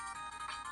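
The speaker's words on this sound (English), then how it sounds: "I'm getting a phone call, so I gotta go." A phone ringtone chimes as an incoming call arrives, a short bright tonal melody that sounds clear and steady with no talk over it.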